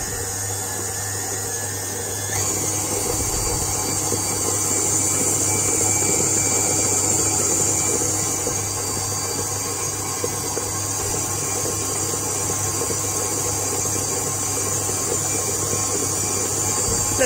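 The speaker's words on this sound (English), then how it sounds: "Time to turn on for final mix." A steady motorised whir from an electric mixer beating Victoria sponge batter, close and constant, with a slight shift in tone a couple of seconds in and no talking.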